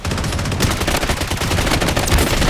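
Rapid automatic fire from dual Uzi submachine guns in the shooter video game Blood Strike, loud and continuous bursts of close gunshots crackling through the whole stretch with no talk.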